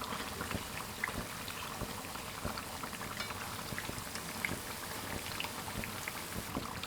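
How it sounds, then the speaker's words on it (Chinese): Potato and flour cakes fry in hot oil over medium-low heat, giving a steady, dense crackle and sizzle with scattered pops, constant and fairly close throughout, with no talking. "全程一定要中小火慢炸，防止一下炸糊，里面熟不透。"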